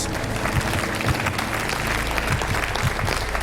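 A studio audience at a quiz show breaks into steady, dense applause that stays loud and even throughout, with a faint murmur of voices underneath.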